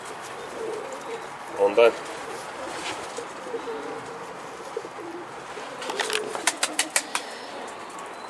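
A young racing homing pigeon coos softly in short bursts, with a clear burst near the start and a rapid run of pulses toward the end, while people talk nearby.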